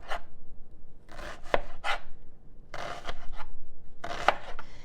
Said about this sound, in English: I'm just going to cut into it like little strips